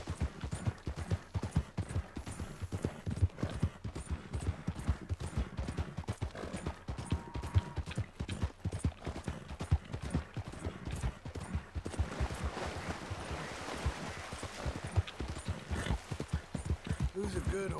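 Horse hooves clip-clopping at a steady walking pace in the Red Dead Redemption 2 video game, close and continuous, with light ambient game sound around them.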